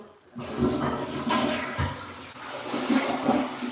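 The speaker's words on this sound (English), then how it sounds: "Actually, I could probably flush it now because the Lysol has been sitting for a minute on." A toilet flushes after a Lysol cleaning, a close, rushing gurgle of water that surges, dips and swells again across several seconds in a quiet bathroom.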